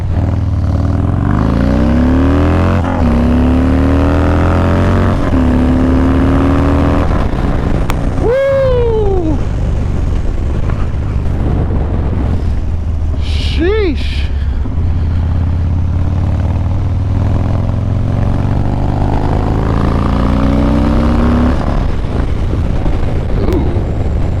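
A Harley-Davidson Dyna Low Rider motorcycle is ridden, its loud, continuous engine drone and road roar filling the whole stretch. The revs rise and fall through gear changes, with one sharp swell in the middle.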